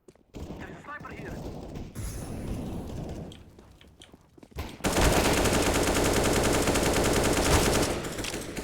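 An AK rifle firing in Counter-Strike, scattered shots and game noise giving way to a long, dense burst of continuous automatic fire, loud and close, with a voice talking faintly in the background.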